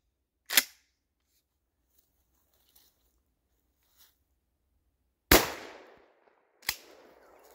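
Two loud, sharp 12 gauge Churchill shotgun blasts ring out outdoors, each followed by a brief decaying echo, after a single earlier distant crack; no talking.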